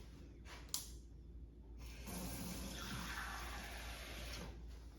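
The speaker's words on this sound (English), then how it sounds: "let me just get some tap water in this." Tap water running from a faucet into a container holding a few drops of oil, a short click then a steady close rushing fill that continues to the end.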